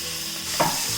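Chopped plantain frying in hot ghee over a medium flame, a steady soft sizzle with a brief scrape as the pieces are stirred in the pan.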